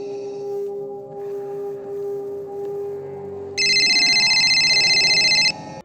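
A cell phone ringtone in a Star Wars movie scene plays a loud, bright electronic ring with rapid repeating tones. It cuts in sharply after a few seconds of a sustained musical drone and soft background sound.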